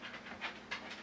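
A dog pants close by in fast, breathy rhythmic puffs, fairly quiet and with no talking.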